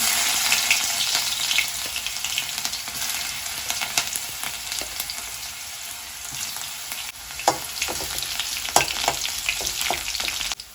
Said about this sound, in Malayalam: ഇഞ്ചിയും വെളുത്തുള്ളിയും ജസ്റ്റ് ഒന്ന് മൂത്ത് വന്നിട്ടുണ്ട്